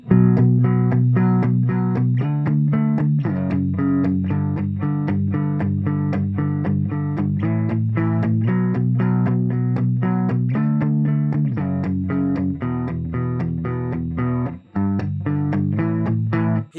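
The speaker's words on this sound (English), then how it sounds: "when we've got those soft palm muted hits giving us that rhythmic sense on the one" A guitar plays a rhythm part, with steady, evenly spaced soft palm-muted hits and chord changes every couple of seconds. It is close, alone and keeps a driving pulse throughout.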